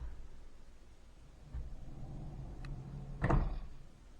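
A wooden barn door, 86 inches tall, rolls along its overhead track with a low, soft rumble that ends in a brief thump. The sound is quiet and close, with no talking.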